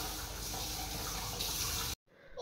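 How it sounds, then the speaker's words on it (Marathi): Taro leaves being rinsed under a running kitchen tap give a steady, even splash of water for about two seconds, then the flow stops abruptly and only a faint trickle follows. "मी स्वच्छ आळूची पानं धुवून घेत आहे"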